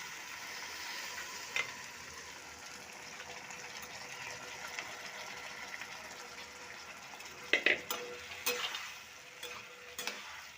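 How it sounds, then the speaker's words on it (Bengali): Egg tarka dal is stirred and sautéed in a pan, a soft continuous sizzle broken by scraping stir strokes that grow busier toward the end, with no voices. "এবারে ভালোভাবে কষিয়ে নেব"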